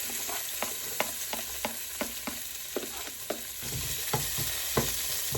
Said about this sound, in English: we're gonna saute the onions in basically the olive oil and chorizo juice for a few minutes